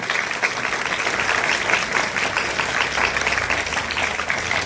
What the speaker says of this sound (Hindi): इनका हम सब मिलकर जोरदार ताली से स्वागत करिए अपने गार्जियन से।